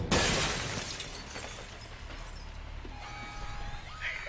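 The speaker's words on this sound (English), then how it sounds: "you might be able to find a way to break the glass" Glass window shattering in the video game Alpha Protocol: a single loud crash at the start, then a tail of tinkling shards fading under low ambient hum and faint electronic tones.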